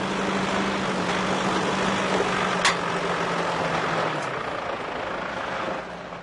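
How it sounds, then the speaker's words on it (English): A Nissan Hardbody 4x4 creeping down a steep slope in low range second gear, a steady loud engine drone with a low hum and rumbling chassis noise that eases slightly near the end. "This hard body is being driven correctly in low range second gear"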